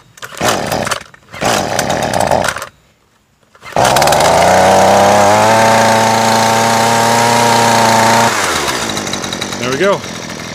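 Husqvarna 128LD trimmer power head with a freshly replaced recoil starter is pulled twice with short rasping rips, then its small two-stroke engine catches and revs loudly, settling into a buzzing idle nearby.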